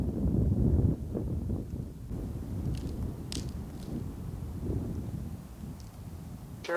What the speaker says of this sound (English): This wind will die down in a few minutes.